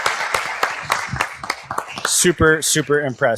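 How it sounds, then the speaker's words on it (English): A round of applause at a live evening pitch competition event gives a brief burst of clapping at the start, quickly giving way to a person speaking. "another big round of applause for all of our teams tonight"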